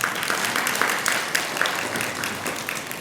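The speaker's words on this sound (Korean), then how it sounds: "박수 한번 보내주세요" Audience applause at a Buddhist Dharma talk in a temple, steady clapping from many people throughout, moderately loud and continuous.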